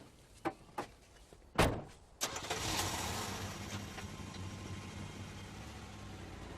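A car door thumps a few times, then the engine cranks and catches and settles into a steady, moderately loud idle that runs on to the end.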